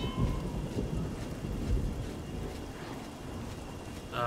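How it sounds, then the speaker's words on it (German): Rain and thunder in the video game The Elder Scrolls Oblivion, a steady hiss of falling rain with low rumbling thunder rolling underneath, continuous throughout. "Oh, es regnet."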